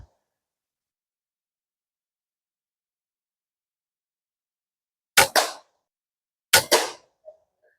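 Two sharp shots from an FX Impact M3 air rifle fired from a bench rest, each a crisp crack with a brief ring, spaced about a second apart after long silence, followed by a faint small click.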